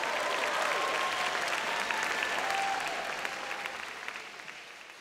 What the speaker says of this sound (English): we can give a round of applause to you